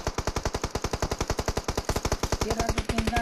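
Rapid automatic gunfire in a video game, a fast, even burst of loud close shots lasting several seconds, with a faint tonal game sound near the end and no talking.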